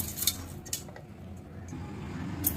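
A few light clinks and rattles as roasted chutney ingredients drop into a mixer jar, with soft clatter against a quiet kitchen background.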